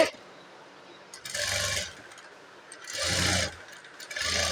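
A sewing machine stitches cloth for rope piping in three short, close whirring bursts separated by quiet pauses.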